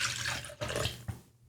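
Vodka free-poured into a cocktail shaker gives a steady close splashing pour with a brief break partway through, then ends in a short burst of liquid before stopping.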